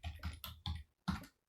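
Typing on a computer keyboard while writing a script: a quick cluster of close key clicks in short bursts, then a pause and one final tap, with no voice.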